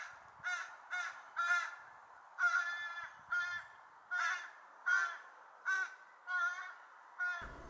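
An American crow caws repeatedly outdoors, about ten harsh calls in loose groups of two and three, fairly close and clear against a quiet background.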